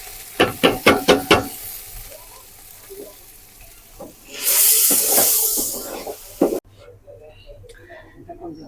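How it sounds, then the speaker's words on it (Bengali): Rice frying in oil in a pot for biryani with whole cardamom, cinnamon, bay leaf and raisins: quick rhythmic scraping strokes, then a loud, sustained hiss of sizzling that cuts off abruptly, with softer clatter afterward. "আমার চাল ভাজাটা হয়ে গেছে"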